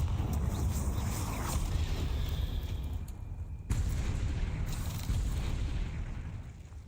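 A blasting spell goes off in a Hogwarts video game: a sustained rumbling roar with a sharp boom partway through, then continued low blasting noise.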